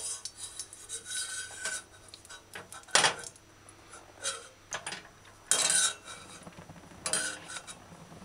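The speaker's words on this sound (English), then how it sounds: "Use a cooking spoon and remove the berries from the heating oil." A cooking spoon scrapes and clinks against a pot of hot oil while lifting out fried berries, in scattered metallic scrapes and taps with quiet gaps between them and no talking.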